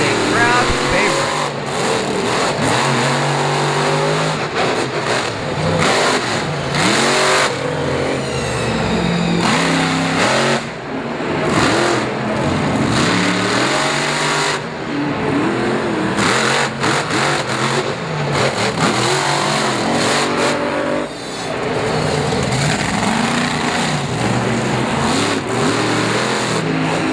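Race trucks revving and accelerating around Bristol Motor Speedway in Tennessee, a loud continuous engine roar with rising and falling pitch throughout, with an announcer talking over it.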